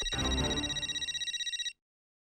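A telephone ringtone rings on its own at a moderate level, a bright electronic tone pulsing in a steady rapid rhythm for under two seconds before stopping.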